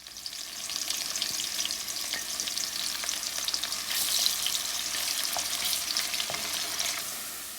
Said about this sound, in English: I'm adding chopped onion in there and I'm gonna fry the onions until they are light brown.